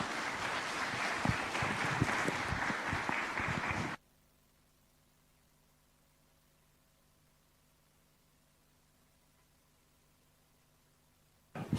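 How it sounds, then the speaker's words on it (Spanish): Applause welcoming a speaker at a Bible seminar: loud, dense clapping from a crowd for about four seconds, then an abrupt cut to near silence with a faint hum. "Vamos a recibir con fuertes aplausos."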